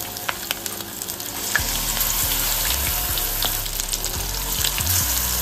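Topse fish coated in gram flour fries in oil over low heat with a loud, dense crackle and spatter close by. A low steady hum sits underneath, with occasional stirring knocks.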